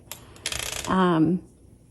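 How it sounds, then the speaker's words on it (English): An Olympia SM7 typewriter gives a few quick mechanical clicks and a rattling ratchet as its handle is turned, then a short resonant metallic ring that fades out, close and fairly loud. "when you turn your handle, you'll hear it click"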